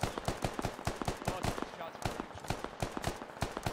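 Rapid automatic gunfire from a Squad military shooter match, with dense bursts of sharp cracks in a fast, steady rhythm, loud and close throughout.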